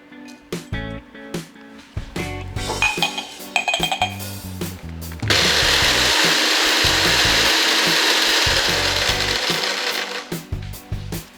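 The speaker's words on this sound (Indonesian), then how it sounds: "Kayu manis juga kita patahin kecil-kecil dulu pakai tumbukan" Cinnamon sticks being broken into pieces with a pestle, loud clacking knocks and crunching scrapes, then a sustained grinding rasp in the middle before sharp knocks return.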